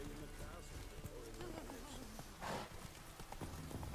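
Horse hooves clip-clop rhythmically at a gallop in The Witcher 3, with a faint whinny and a voice speaking over the hoofbeats.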